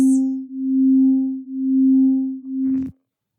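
A steady electronic hum tone from a SEFI imprinting or broadcasting function on an AO Scan device pulses in slow, even swells, ending with a brief buzzy burst before cutting to silence.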